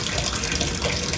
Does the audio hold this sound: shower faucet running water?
yes